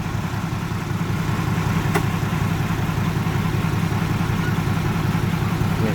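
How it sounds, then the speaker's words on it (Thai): A backhoe excavator's diesel engine runs steadily at a low idle, a constant close rumble with no speech and a single faint tick partway through. "ขับแมคโครด้วยแขนข้างเดียวครับ"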